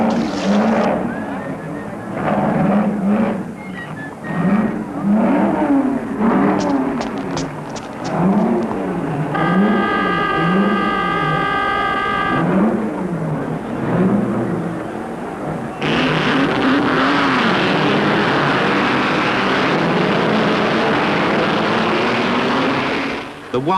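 A supercharged 1.5-litre four-cylinder Maserati racing car engine snarls loudly on an aerodrome road circuit, its pitch rising and falling in repeated sweeps as it shifts and passes, with a steadier roar later.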